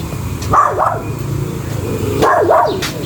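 A dog barks in two short bursts of a couple of yips each, fairly close, with background noise between them.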